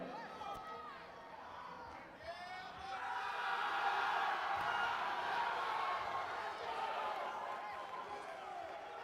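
An excited crowd cheers and yells at a collegiate national powerlifting competition ahead of a squat attempt, the roar swelling from moderate to loud and staying sustained and somewhat distant, with an announcer's voice over it.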